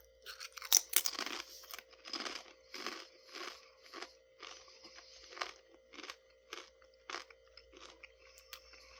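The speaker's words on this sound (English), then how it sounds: "as I'm eating it, I don't really want to go back for more." Crunchy Doritos Golden Sriracha chips are chewed close up, giving a loud crunch on the first bite followed by a steady run of rhythmic crunching bites with short gaps.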